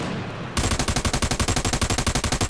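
Rapid automatic gunfire in a video game, a loud continuous burst of evenly spaced shots right up close after a short lull.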